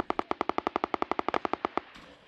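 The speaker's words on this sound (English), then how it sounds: "Whilst one platoon conduct their first ever live firing attack" Rapid live-fire automatic gunfire rings out during an infantry platoon attack on a military training area, about twenty sharp evenly spaced shots in a steady burst before it stops, with no voices.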